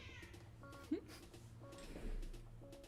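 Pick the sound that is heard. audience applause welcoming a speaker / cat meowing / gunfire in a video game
cat meowing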